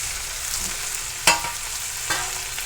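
Mixed vegetables with carrot, drumstick pods and eggplant sizzle steadily in hot oil, with a couple of sharp stirring clatters and no talk over the frying.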